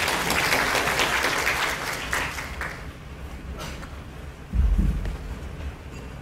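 An audience at a working-holiday information session bursts into loud, sustained applause for a speaker, the clapping gradually thinning out, followed by a brief thump near the end.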